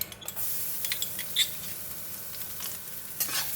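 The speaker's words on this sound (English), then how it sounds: "Now I'm going to fry the garlic." Garlic frying in hot oil in a pan, a bright continuous sizzle with scattered stirring scrapes and clinks of a utensil against the pan, close by.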